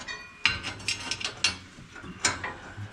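A ratchet tightening bolts on the teeth of a hay baler, several short clicking ratchet strokes in an uneven rhythm, close and fairly loud with no talk.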